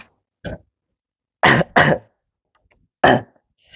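A few short throat clears and coughs, close and loud, separated by brief silences: one, then two quick ones, then another.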